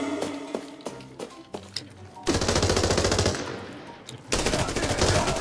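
Rapid automatic rifle fire in the shooter game Arena Breakout, first scattered single shots and short bursts, then two long, loud sustained bursts of gunfire.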